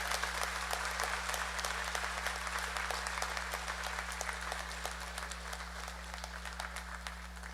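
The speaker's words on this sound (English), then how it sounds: "Can we give her a tremendous round of applause" A crowd claps steadily through a university convocation ceremony, a sustained even patter heard from a distance over a constant low electrical hum, fading slightly toward the end.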